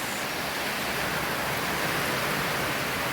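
Steady rain pours down outside a farm home, a dense, even wash of broadband noise without pauses or distinct drops.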